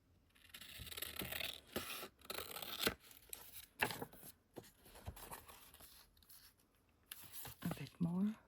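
Scissors snipping and scraping through paper for a handmade zine, several close cuts with rustling in between, under quiet talk.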